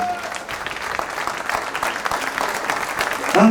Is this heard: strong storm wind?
no